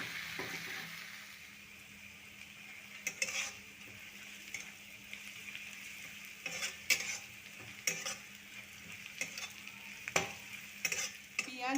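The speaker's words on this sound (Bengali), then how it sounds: "বাদামি করে পেঁয়াজ ভেজে নেব।" Two chopped onions frying until brown in a pan, with a steady sizzle broken by scraping stirs and the occasional utensil clink, close up and with no talk.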